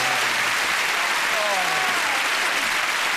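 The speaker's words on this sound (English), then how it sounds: "Let's give them a nice round of applause." Studio audience on a TV game show applauding steadily, a dense even clapping wash that stays loud throughout, with a host's voice briefly heard over it.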